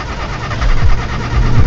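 In the horror video game THEY ARE HERE, a car engine cranks and sputters with uneven, knocking bursts, loud and close, rising and falling over a rough idle.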